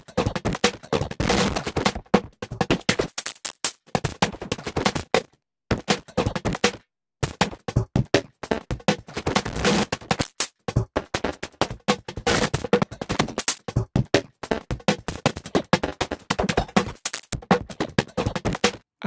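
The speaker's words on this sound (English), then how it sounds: "a load of different variations on the sound of this breakbeat, just lots of timbral variations" A heavily distorted breakbeat plays in choppy bursts, its drum hits crunchy and harsh, with the tone shifting every few beats and brief silent gaps between phrases.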